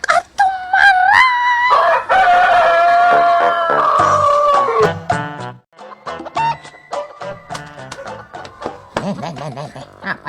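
Chickens cluck and a rooster gives a loud crowing call up close, followed by a run of short, irregular clucks and squawks with no one talking over them.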